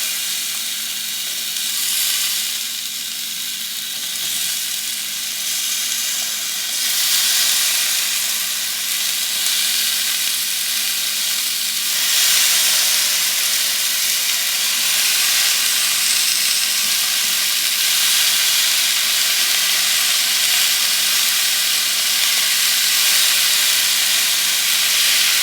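Vegetables sizzle on a very hot sheet pan, a loud, bright, continuous hiss and crackle that holds steady throughout with no talking.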